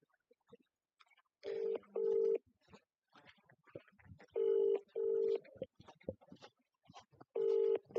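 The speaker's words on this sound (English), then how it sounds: "It's ringing for a long time" A telephone rings out on a call with repeated paired trill bursts separated by pauses, faint and thin like it is heard through a speaker, while people talk quietly between the rings.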